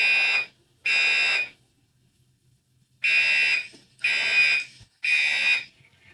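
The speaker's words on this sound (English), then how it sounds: "Alarm test, so hope you guys enjoy it." A fire alarm under test sounds in five loud, harsh electronic bursts, each about half a second to a second long, separated by short silences and one longer gap, close and unaccompanied by talk.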